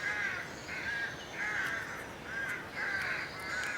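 Crows caw repeatedly outdoors, harsh calls in a loose rhythm of about six, at moderate distance over a soft background hiss.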